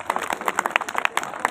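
Crowd at an outdoor political rally in a village clapping rhythmically, many hands in quick, steady claps close by, brief and lively.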